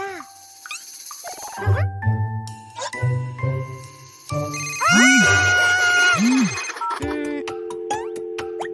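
A bright electronic ringtone jingles repeatedly over a musical background, with swooping tones and chimes, ringing on without being answered.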